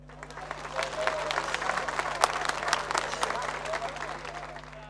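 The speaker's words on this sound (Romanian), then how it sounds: "Dacă ne-o lăsați, să o aplaudați" Audience applause fills a talent show event in Medgidia, a dense, steady clapping crowd sustained for about five seconds with sharp individual claps standing out, plus a constant low electrical hum underneath.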